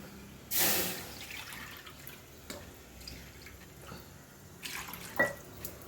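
Water poured from a cup into a cup of semolina for mini rava idli, a brief splashy pour near the start followed by quieter kitchen sounds and faint drips.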